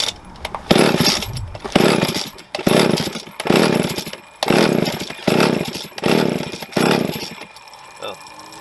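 A Jonsereds 520SP chainsaw, fresh fuel in, with a rebuilt carburetor and a repaired pull start, is yanked repeatedly with the choke on, giving about eight loud, rhythmic bursts separated by short gaps, close by.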